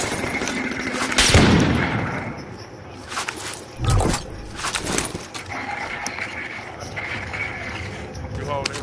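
Gunfire in the battle royale game Call of Duty Warzone, a few sharp loud shots and bursts scattered over several seconds amid game noise, with a player talking over it.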